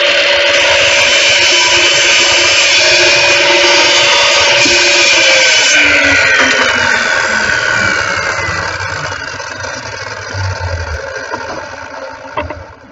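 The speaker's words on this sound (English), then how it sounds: "You hold it firmly against the fence, and then you put the saw down, start it up, and then just cut through." Loud power saw cutting through wood held against a fence in a carpentry room, a sustained roaring whine that slowly winds down near the end, with no talking.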